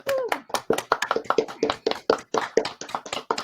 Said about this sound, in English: We'll have a minute of applause, please.